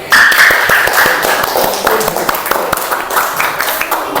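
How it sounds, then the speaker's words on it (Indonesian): Group applause for a presenting team, fairly loud close clapping with distinct sharp claps standing out from the steady patter, sustained for a few seconds with some voices mixed in. "kita berikan tepuk tangan untuk kelompok 2"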